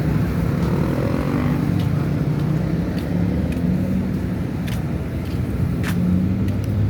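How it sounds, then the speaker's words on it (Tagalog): A Dagupan bus engine rumbles low and steady nearby, mixed with road traffic noise and a few faint ticks, continuous with no voices. "Ito, Dagupan bus."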